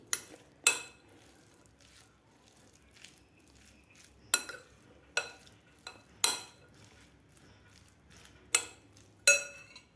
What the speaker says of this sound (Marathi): आता आपल्याला हे पूर्ण मिक्स करून घ्यायचं आहे.